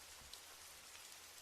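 Steady rain falls continuously with a soft, even hiss and faint patter of drops, no voices present.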